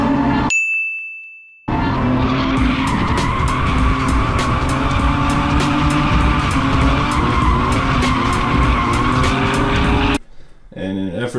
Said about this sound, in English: And we also drift cars together.